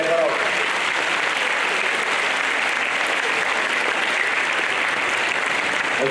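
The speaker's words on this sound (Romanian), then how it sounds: "Aplauze, vă rog!" Sustained applause from a gala crowd at a space festival opening ceremony, a dense and even wash of clapping held at steady loudness from start to finish, with no pauses.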